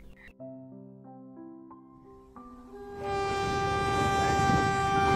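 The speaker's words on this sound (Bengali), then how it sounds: "12:50 ট্রেনটা যখন স্টেশনে এসে দাঁড়ালো" A cartoon train arrives at a small station, opening with layered stepped horn tones that give way to a loud hissing, rumbling rush of the train pulling in.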